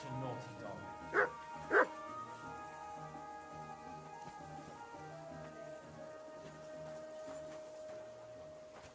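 Two short, sharp dog barks in a medieval game village, close and loud, rising above steady background music with a sustained tone, followed by ongoing ambient game sound.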